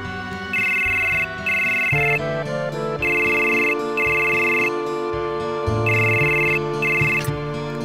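A mobile phone rings in Final Fantasy VII, a bright electronic ringtone repeating in short regular bursts over a low, steady game music bed, loud and close with no talk.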